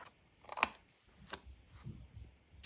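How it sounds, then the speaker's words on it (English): Scissors snip off the corners of a piece of paper in a papercraft project: two sharp, close snips about a second apart, followed by faint handling rustle. "let's just snip these corners off"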